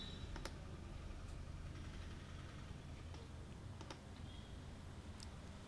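A computer keyboard being typed on while searching for a font, sparse light keystroke clicks spaced a second or so apart over a steady low room hum.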